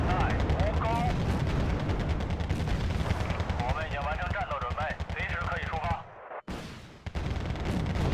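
Units fire in the Wargame: Red Dragon real-time strategy game as a dense wall of gunfire and rumbling explosions, sustained and loud, briefly cut to near silence before resuming, with a voice talking over it.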